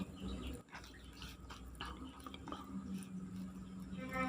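Water poured back into a pan of chocolate batter for steamed mini bluder cakes, a soft continuous trickle with drips and wet squishing, fairly close and steady throughout, with no talking.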